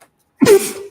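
A single sharp human sneeze, close and loud, bursting out after a brief silence and trailing off over about half a second.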